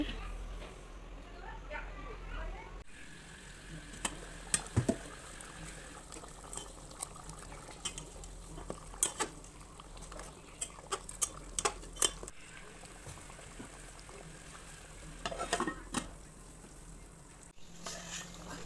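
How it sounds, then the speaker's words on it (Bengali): Buffalo meat curry cooks in a pot on a gas stove, with soft bubbling and a low burner hiss, broken by scattered clinks and scrapes of a spoon against the pot, while people talk quietly nearby. "মাংসটা রান্না করার জন্য গ্যাসে বসিয়ে দিয়েছে।"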